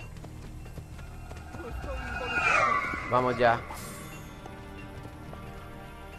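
Horse hooves clatter in Assassin's Creed Brotherhood on Nintendo Switch, a short run of galloping thuds that swells briefly near the middle, set against game music and ambience while someone talks briefly.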